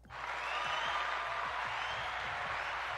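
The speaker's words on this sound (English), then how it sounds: "The crowd is just going. They're cheering for me." A crowd cheers and applauds in a steady, loud roar of massed voices and clapping that swells in and holds without a break.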